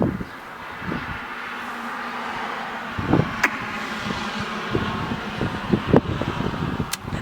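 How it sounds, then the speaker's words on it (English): A car passes by outdoors, heard as a low, steady road rumble with a few sharper knocks and thumps; no talking. "There's a car driving by."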